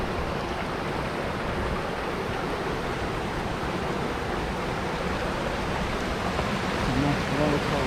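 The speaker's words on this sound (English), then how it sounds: "Nice waterfall flowing." A waterfall at Los Penasquitos Reserve pours in a steady, dense rush of water, loud and continuous with no pauses throughout.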